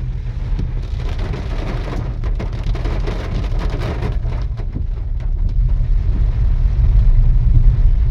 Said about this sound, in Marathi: अजून जोर वाढलेला आहे पावसाचा.